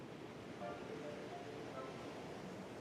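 Storm-driven ocean waves surge in a steady, dense roar far out at sea, with no distinct breaks and nothing else heard.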